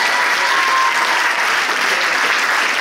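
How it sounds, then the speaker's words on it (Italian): Audience at an evening event in Termoli marking the 2024 calendar and forty years of Difesa Grande breaks into loud, dense, sustained applause. "un grande applauso perché è una tappa importante."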